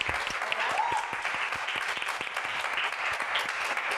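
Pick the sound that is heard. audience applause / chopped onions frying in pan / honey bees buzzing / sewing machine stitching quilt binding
audience applause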